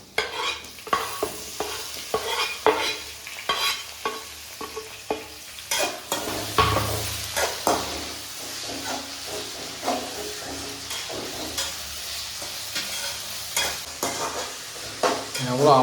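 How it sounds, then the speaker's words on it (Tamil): Onions fried until golden and then tomato sizzle in a home kitchen pan while a utensil stirs them, producing steady hissing with frequent scraping and clinking strokes, close up and without talk. "சமையல் செய்யும் போது ஆனியன் நல்லா பொன்னிறமாக வரணும்."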